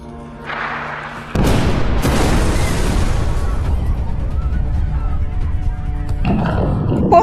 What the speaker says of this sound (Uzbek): Portladi.